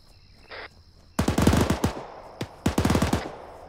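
Rapid automatic gunfire during a military field training exercise, two loud close bursts of quick shots separated by a single shot, with a short tone beforehand.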